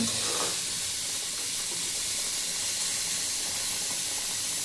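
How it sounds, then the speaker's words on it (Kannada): Lentils (dal) cook in a pan with a steady, close, continuous hiss and sizzle throughout, with no talking. "ಇಲ್ಲಿ ಬೇಳೆ ಬೇಯ್ತಾ ಇದೆ, ಇನ್ನೊಂದು ಸ್ವಲ್ಪ ಬೇಯಲಿ."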